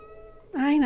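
A single drawn-out cat meow rises up loud and close after a quiet stretch, with faint tonal background hum beforehand.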